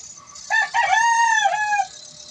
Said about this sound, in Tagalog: tumitilaok yung mga alagang manok